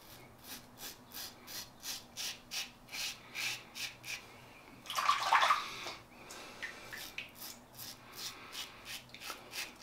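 A Merkur 34C HD safety razor fitted with a Bic Chrome Platinum blade on its fourth use scrapes across stubble in quick, regular close strokes, a dry rasping rhythm with a louder burst midway.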